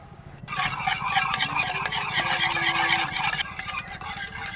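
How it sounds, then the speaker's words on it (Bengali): Sour yogurt is whisked by hand until smooth, making a fast, rhythmic scraping and stirring that runs close and fairly loud and continues steadily with small dips. "ততক্ষণে আমি এই টক দইটা খুব ভালো করে ফেটিয়ে নেব"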